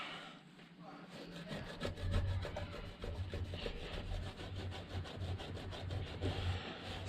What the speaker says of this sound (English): Let's get a quick wipe round and then we'll go around with the Autosol